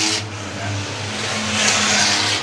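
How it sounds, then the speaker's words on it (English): A race car engine revs in a sustained roar during a heat race at a dirt track, steady and fairly loud with a swelling pitch, heard without commentary. "Sarah Cupcake Loftus has joined the party in car number 12"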